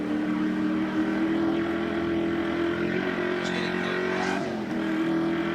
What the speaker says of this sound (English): that's the view out the rear window of Dick Johnson's car, with Jim Richards in hot pursuit